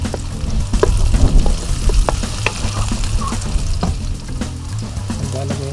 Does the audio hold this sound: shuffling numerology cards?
no